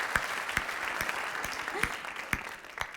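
A comedy-show crowd in Paris breaks into applause, brief dense clapping across the hall with a few louder individual claps standing out, fading somewhat by the end.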